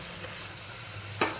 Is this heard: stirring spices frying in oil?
yes